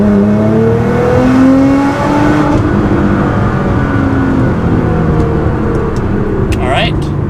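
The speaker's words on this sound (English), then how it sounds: "now we are in third gear and we're going to do a data log run" A 600 WHP Nissan GT-R accelerating hard through third gear from low revs toward the red line, a loud close engine roar rising steadily in pitch, with someone talking over it.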